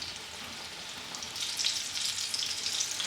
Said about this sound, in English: I can hear them sizzling,